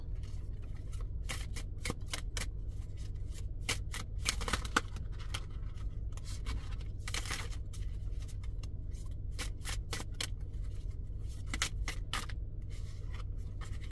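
Tarot cards being handled and shuffled, with quick crisp riffling and rubbing bursts repeating irregularly, close and fairly soft over a steady low hum and with no talking.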